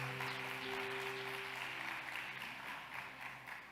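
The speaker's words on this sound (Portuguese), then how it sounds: "Pode aplaudir Jesus." A church congregation claps together in a sustained, even round of applause, with soft held tones underneath as the clapping slowly tapers off.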